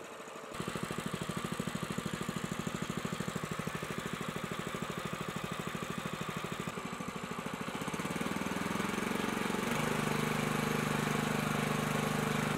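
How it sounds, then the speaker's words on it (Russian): A homemade auger branch shredder's small engine runs steadily as it warms up, with a fast, even chugging that shifts to a higher, smoother pitch near the end as revs rise toward working speed. "Немного разогрею двигатель, чтобы перейти на рабочие обороты."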